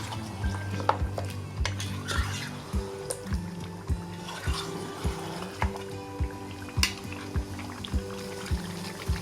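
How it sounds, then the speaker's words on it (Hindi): Goat trotters frying in masala in a pot over a medium flame, with a steady bubbling sizzle punctuated by regular soft knocks of a spoon stirring against the pan, fairly close and without talk. "तीन 4 मिनट तक हम मसाले में पायों को भूनेंगे"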